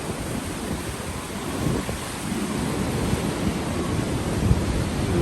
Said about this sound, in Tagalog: Impact ng hangin.